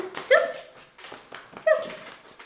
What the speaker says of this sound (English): This is our neighbor dog.